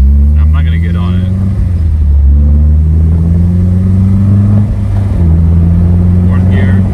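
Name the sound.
car engine revving through the gears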